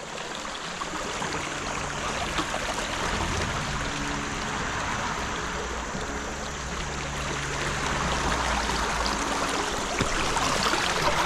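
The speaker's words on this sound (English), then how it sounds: "Okay, this is Birch Creek" Birch Creek in Walnutport flowing steadily, a continuous broad rushing and gurgling of moving water, close and even throughout with no voices.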